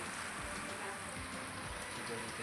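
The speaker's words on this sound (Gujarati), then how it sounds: "કારણ કે વરસાદ આવતો તો જોરદાર" Heavy rain falls steadily in a dense, unbroken hiss that fills the whole moment at moderate loudness.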